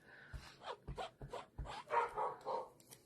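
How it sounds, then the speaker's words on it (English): Dog barking downstairs in a house, a burst of short, repeated woofs and yelps coming in an irregular rhythm, moderately loud and somewhat distant, with no talking over it. "my dog is having a little fit downstairs"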